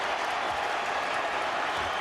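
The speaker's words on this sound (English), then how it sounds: "And this crowd wants Kobe to get 50." An NBA arena crowd at a 2004-05 Lakers versus Raptors regular-season game roars steadily, a dense, loud wash of cheering and applause throughout.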